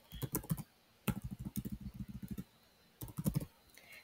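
Keystrokes on a computer keyboard while code is typed, close and clear, in three quick bursts of rapid clicking separated by short pauses.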